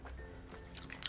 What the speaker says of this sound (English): Let me have one more mouthful.